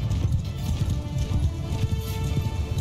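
Horses' hooves clip-clopping in quick continuous rhythm in the video game Mount & Blade II: Bannerlord, a busy low thudding bed with faint game ambience and no speech.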